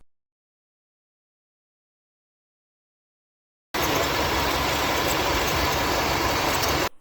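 After nearly four seconds of silence, a Volkswagen engine idle rumbles in abruptly and holds at an even level until cutting off near the end; the air conditioning compressor does not start with the engine running.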